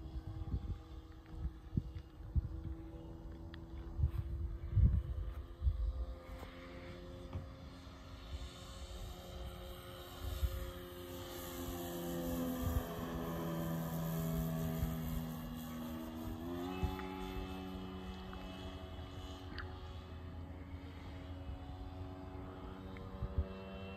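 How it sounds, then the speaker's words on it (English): Hanger 9 Tiger Moth model biplane cruising at half throttle, its small engine droning at a distance with a hum that rises and falls in pitch as it passes, over wind and faint background noise. "I'm just cruising around at half throttle."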